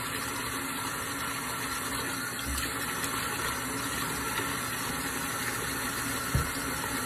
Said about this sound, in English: I'm adding water as I'm scrubbing this in.